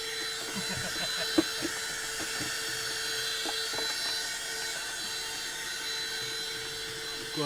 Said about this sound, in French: j'ai le droit d'aspirer mon moteur